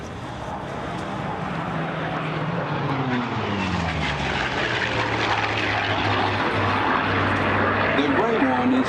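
Messerschmitt 109 propeller fighter flying at the Duxford Flying Legends airshow, a steady droning engine rumble with a falling pitch sweep as it passes, under continuous commentary from someone talking throughout.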